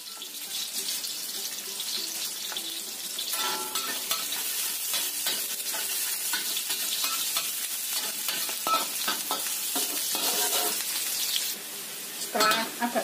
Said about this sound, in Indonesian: Kita tumis dulu bawang merahnya sampai matang.